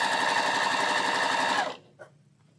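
A sewing machine stitches small quilt-block pieces at a steady, fast rhythm, running loud and close for about a second and a half before stopping abruptly, followed by a brief faint click.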